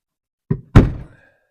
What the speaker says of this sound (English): I tend to put a flat screwdriver in the centre and just push